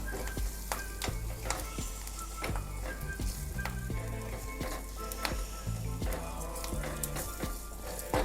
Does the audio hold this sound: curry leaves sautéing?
yes